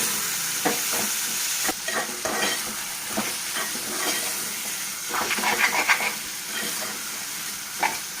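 Capsicum egg curry being stirred in a pan, with scraping and stirring strokes over a steady sizzle, no voices.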